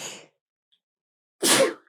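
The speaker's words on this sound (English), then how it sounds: "So I'm going to sneeze." A single person's sneeze bursts out sharply after a faint breath at the start and a short silence, close and loud, with nothing else around it.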